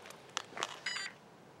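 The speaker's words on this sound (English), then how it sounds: "After all the beeps and stuff" A Losi Promoto MX radio-controlled dirt bike and its transmitter powering on give a few short electronic beeps and chirps, brief and close, ending in a sustained tone, with no talking.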